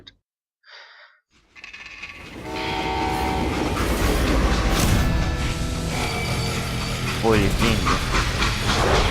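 Steam train in the Western shooter Call of Juarez: Gunslinger rolls in loud after a brief quiet start, its heavy rumble and clattering wheels joined by a horn-like tonal blast, with a short spoken phrase near the beginning.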